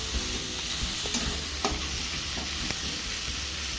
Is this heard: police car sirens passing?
no